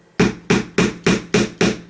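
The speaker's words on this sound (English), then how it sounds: "I'm just going to tap it in with my awl" Six sharp hammer taps on a nail driven into a paint brush with an awl, evenly spaced in a steady rhythm, close and fairly loud with no talking.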